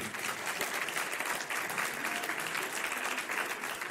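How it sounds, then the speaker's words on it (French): An audience bursts into sustained applause at a French-speaking ceremony, dense steady clapping filling the whole stretch at close range with no voices over it. "on peut les applaudir encore une fois, s'il vous plaît"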